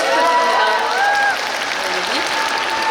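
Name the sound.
audience applause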